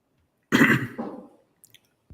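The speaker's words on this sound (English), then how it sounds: "Cough. Sorry about that." A man gives a single throaty cough, a rough burst followed by a shorter second push, close to the microphone in an otherwise quiet room.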